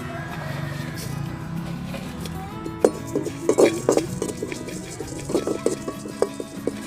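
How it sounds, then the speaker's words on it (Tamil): Toor dal lentils are dry-roasted in a hot pan, with scraping stirs and clinking metal-on-pan knocks that grow busier midway, set against a low steady background hum. "துவரம்பருப்பு முதல்ல போட்டுடலாம். லைட்டாக வறுத்துக்கலாம்."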